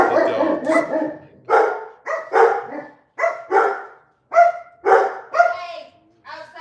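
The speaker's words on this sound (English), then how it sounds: "Sorry about the dogs." Dogs barking indoors in repeated loud bursts of several barks each, separated by short pauses, close to the listener and dominating the scene.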